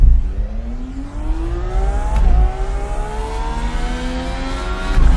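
Race car engine revving hard on the St. Pete Grand Prix street circuit, a loud close roar climbing in pitch with two brief gear-change dips, heard alone.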